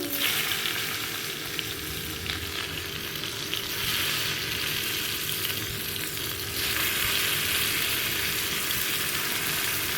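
Sliced bitter gourd sizzles steadily in hot oil in a small wok, a constant crackling hiss with occasional stirring scrapes, fairly close and with no voices.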